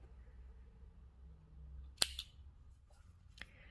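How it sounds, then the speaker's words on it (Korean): Scissors snip through crochet yarn in a quiet room, one sharp close cut followed by a softer second snip and a faint click a moment later. "실을 끊어서 정리하도록 할게요. 한 20cm 정도 당겨서 잘라주세요."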